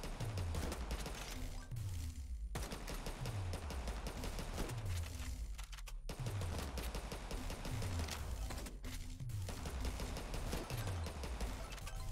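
Electric turret firing in the zombie survival game Yet Another Zombie Survivors: rapid crackling bursts and repeated thumping impacts in a dense, continuous fusillade, with game effects layered over them.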